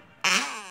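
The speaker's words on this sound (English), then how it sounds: "And you can also make fart noises." A short, loud, buzzy fart noise from a novelty toy, one burst close up.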